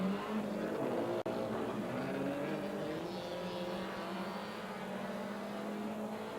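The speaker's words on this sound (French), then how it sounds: "les voitures partent sur la même ligne" Several racing cars pull away together from the start of a 1986 TF1 challenge race, a dense, steady engine roar held at a distance with no voices over it.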